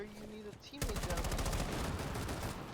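Rapid automatic gunfire in Rainbow Six Siege, a fast rhythmic burst of shots starting abruptly and continuing loud and close for about two seconds, following a brief moment of voice.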